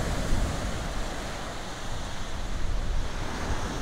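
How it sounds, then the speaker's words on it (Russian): Sea waves wash continuously onto the Kaliningrad shore on an autumn day, a steady broadband roar of surf close by with wind buffeting the microphone throughout. "Вот такое сегодня наше море."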